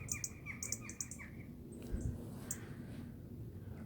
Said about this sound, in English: Look at the little robins. And there's a blue tit as well.